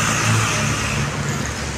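Harapan Jaya Jetbus 5 bus, number 51, on a Hino RM 280 chassis, runs on the road with a steady low engine drone and rumble, fairly loud and continuous, with no voices.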